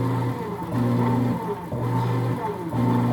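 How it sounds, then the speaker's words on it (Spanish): A Whirlpool washing machine motor turning one way and then the other, a steady humming drone that swells and dips in regular cycles, close and fairly loud. "Ahí tiene que girar nuestro motor hacia los dos lados y luego la bomba."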